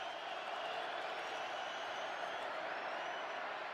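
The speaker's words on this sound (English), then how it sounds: "Crowd in full throat." Steady roar of a stadium crowd at an Eagles vs Vikings NFL game in Philadelphia, a continuous distant wash of cheering with no breaks.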